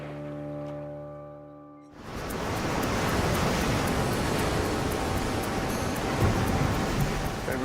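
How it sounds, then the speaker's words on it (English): Choppy sea waves wash and churn in a steady broadband roar, surging slightly in places, after a brief tonal hum at the start cuts off abruptly. "Have you seen the waves over there, though? They're bloody choppy."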